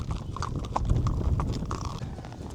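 Horse hooves clip-clop steadily on a horse riding tour in the Moroccan outback near Agadir, a close, moderately loud irregular patter of footfalls with a faint low rumble beneath.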